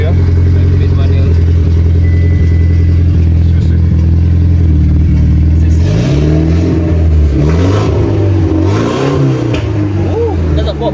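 A Porsche 911 Carrera with a 5-speed manual sits warm and idles with a steady rumble, then is blipped in several sharp revs that rise and fall, close and loud, ending with a pop from the exhaust.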